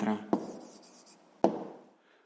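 A pen writes down a short numeric answer for a sixth-grade maths exercise, giving quiet close scratching with two sharp taps, and a voice is heard briefly at the start.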